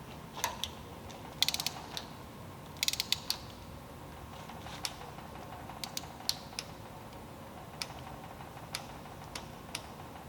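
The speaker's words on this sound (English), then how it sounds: "So now we have our torque wrench set to 18 foot-pounds." A torque wrench set to 18 foot-pounds ratchets while tightening a locking collar bolt during a motor replacement, giving sharp irregular clicks and creaks, some in quick clusters, heard alone and close.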